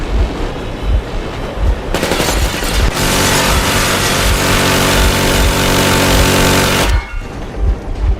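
Warning gunfire in Metro Exodus crackles as a loud, sustained burst of automatic shots lasting several seconds, layered over a low engine rumble that continues before and after.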